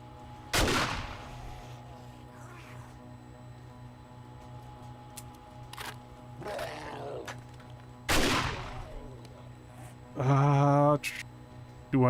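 Gunfire in the survival video game 7 Days to Die during a blood moon base defense: several sharp single shots spaced a few seconds apart and a short rapid burst near the end, with game sounds between.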